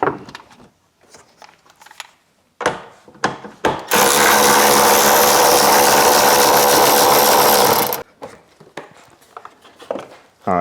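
Steady, loud mechanical whir of a power tool, likely an impact driver, backing out tail light bolts on a wrecked car, running continuously for about four seconds between quieter clicks and handling noises.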